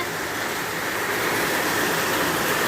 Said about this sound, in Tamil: அவ்வளோ மழை பெய்ஞ்சுக்கிட்டு இருக்கு.